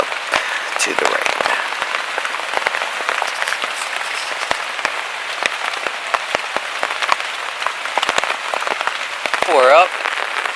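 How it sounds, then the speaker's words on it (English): Rain patters steadily on a tent during a morning of kayak camping on the Potomac River, dense close drops with occasional louder taps, and a voice briefly heard near the end. "And we wake up to the rain."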